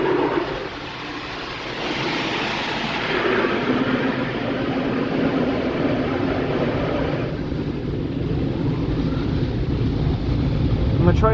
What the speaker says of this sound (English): I'm gonna guess this is a high pressure rinse of some sort.